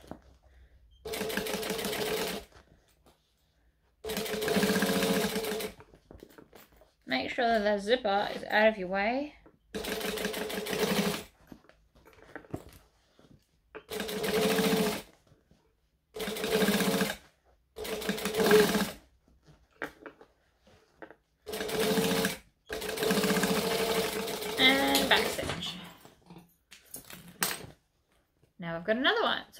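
A home sewing machine runs in repeated bursts of steady stitching while top stitching a laptop case, pausing between runs as someone talks through the steps.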